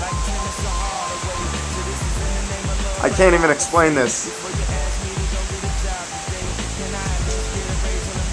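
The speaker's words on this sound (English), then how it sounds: "It is absolutely pouring." Heavy pouring rain in Washington, D.C., heard from an apartment balcony, a loud, dense, continuous roar of falling water throughout, with a person talking briefly over it.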